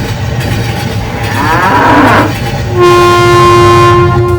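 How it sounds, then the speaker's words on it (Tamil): A train in a 3D animated story rumbles along slowly and steadily, then a long, loud horn sounds and holds for a couple of seconds. "ரயிலும் மெதுவா போனது"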